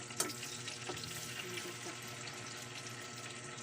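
Milkfish (bangus) fries in splattering oil with a steady, fairly quiet sizzle and crackle, broken by a few sharp pops near the start.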